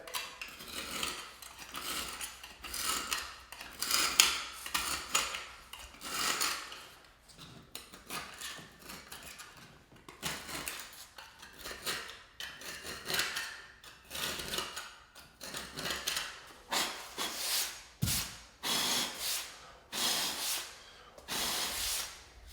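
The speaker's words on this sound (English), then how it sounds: "So I usually just take my utility knife, grind at it a little bit." A utility knife scrapes and grinds at dried thinset between bathroom tiles in a repeated rhythm of short, gritty rasping strokes, close and fairly quiet, with no talking.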